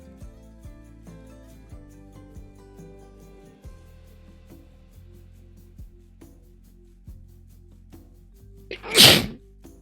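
A single loud, sharp sneeze bursts out near the end, standing out clearly over quiet background music.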